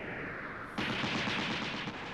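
Rapid automatic gunfire from the 1984 animated film Nausicaa of the Valley of the Wind, a dense sustained burst that starts abruptly and continues loudly over a steady background rumble, with no talk.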